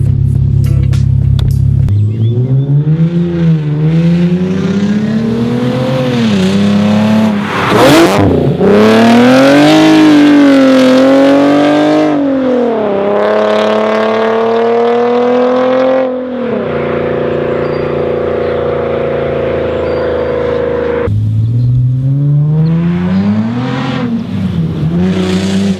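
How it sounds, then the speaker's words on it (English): A Nissan 370Z fitted with a Tomei exhaust revs and downshifts, then accelerates hard past the listener, its loud engine note rising and falling through several gear pulls as it passes by up close. "I'm gonna fly by a couple times"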